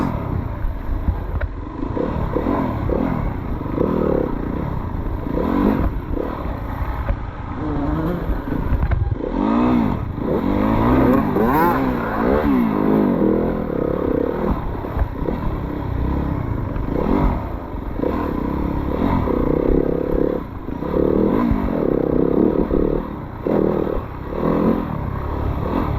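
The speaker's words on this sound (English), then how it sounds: "He's riding a new gas four-stroke in this race." A new gas four-stroke dirt bike racing in an off-road hare scramble, its engine droning loud and close throughout, rising and falling as it revs, with clattering from the rough trail.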